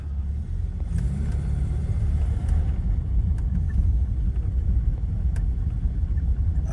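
A 1978 Mustang II creeps slowly down a street, its engine a steady low rumble with road noise that holds evenly throughout, close and fairly loud with no talking.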